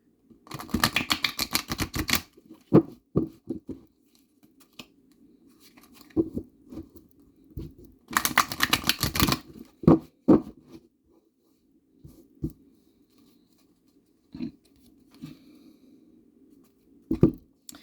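Bursts of rapid riffling tarot cards alternate with sharper taps and soft handling clatter, two long shuffles separated by quieter gaps.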